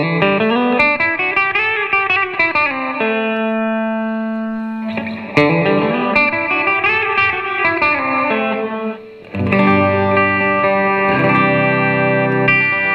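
A Boss RV-2 digital reverb pedal in gate mode shapes electric guitar chords and bends, each note blooming into a dense reverb that cuts off abruptly instead of trailing away, loud and upfront with no voices.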